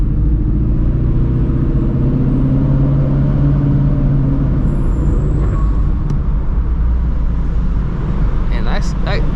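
Heavy truck rumbling close by on a road, a steady loud low drone of engine and tyre noise filling the whole stretch, with people talking over it.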